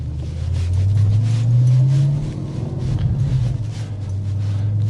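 A 2000s Audi RS4 B7 performance car pulls in second gear from low revs, its engine note rising into a deep, steady drone, then easing back, heard from inside the cabin with no talk.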